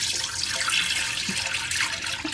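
Warm palm nut liquid pours and trickles through a strainer for banku palm nut soup, a steady splashing stream with a few soft drips, close and moderately loud, with no voices.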